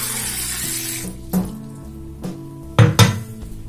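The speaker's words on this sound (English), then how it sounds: "So let's have some tap water in a glass." Tap water runs and splashes into a glass at a sink, with a few sharp clinks of glass against a hard surface near the end; close and fairly quiet, no talking.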